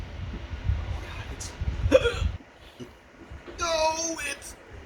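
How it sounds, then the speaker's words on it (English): Hiccups from a man after eating a Carolina Reaper pepper: a couple of short, sharp vocal jolts stand out, with breathy gasps and background noise between them. "there's the hiccups already"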